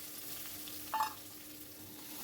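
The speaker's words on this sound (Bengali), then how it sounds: "তখন এর ভেতর দিয়ে দিচ্ছি আমি কেটে রাখা পেঁয়াজের কুচিগুলো।" Chopped onions fry in hot oil over a high flame, a faint, steady sizzle with one brief clink or stir near the middle.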